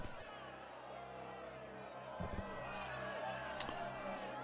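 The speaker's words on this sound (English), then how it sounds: "As you can hear, the crowd is mixed. Some are still calling for her death." Mixed fantasy crowd at a guillotine execution, a dense murmuring babble of many voices with some calling for a death, rising slightly louder partway through with a sharp shout near the end.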